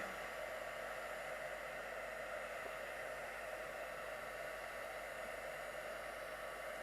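A heat gun melts embossing powder for card-making, a steady, even blowing hiss that holds unchanged from start to finish with no voices over it.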